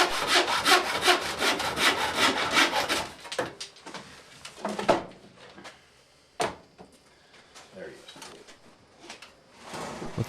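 A hand saw cuts through the wooden cleats of a traditional lobster pot in a rapid, rasping back-and-forth for a few seconds, then gives way to scattered wooden knocks and handling clatter, all close by.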